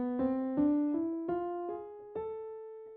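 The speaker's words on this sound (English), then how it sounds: "you have melodic minor sounding like this," A melodic minor scale rises in six plucked notes, evenly spaced with crisp attacks, and the last tone is left to ring out softly; the playing is quiet and near, with no talking.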